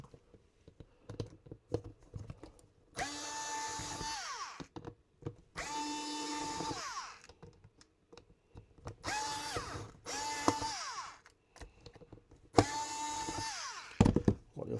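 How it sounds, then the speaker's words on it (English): Screws being backed out of a Sony TC-K870ES cassette deck with a small electric screwdriver, several separate whirring bursts of a few seconds each, close and clear, with faint clicks and handling between them. "So we just take these 4 screws out here."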